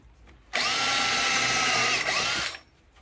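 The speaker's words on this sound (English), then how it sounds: "That's a 6mm drill bit." A power drill with a 6mm bit boring into a wooden bowl blank while woodturning: a loud, steady high whine runs for about two seconds, then stops, with near-silence before and after.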